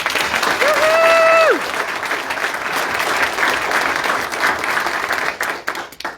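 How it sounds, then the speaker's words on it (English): A school board meeting audience applauds steadily for several seconds, the clapping holding fairly even before thinning toward the end, with a brief whistle-like tone rising early on. "Let's give Tristan a big round of applause."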